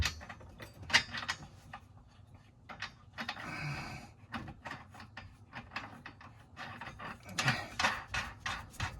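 A nut is tightened onto a bolt with a ratchet while installing a hitch under a Subaru Crosstrek, rapid repeated ratcheting clicks in bursts with metallic clanks and rustling, close and fairly quiet.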